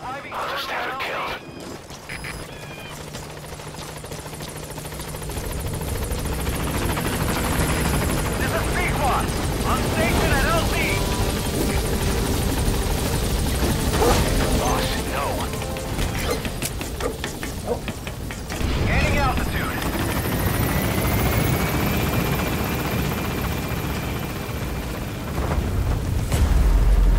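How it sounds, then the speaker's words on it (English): Extraction helicopter arriving in the Metal Gear Solid V video game, a loud sustained rotor roar building and holding throughout with booms and game effects, while voices talk over it. "I'll send the extraction chopper."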